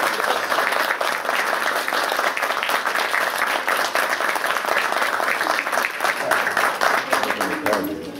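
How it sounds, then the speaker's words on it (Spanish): Steady, dense applause from an audience at a graduation diploma ceremony, loud and continuous for the whole stretch with no break in the clapping. "Y nosotros le vamos a brindar un caluroso aplauso."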